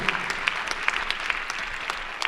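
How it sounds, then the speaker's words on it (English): An audience at a gubernatorial candidate forum gives a steady round of applause, even clapping with some louder individual claps standing out near the mic. "Give yourself a round of applause, and also give your rep a round of applause"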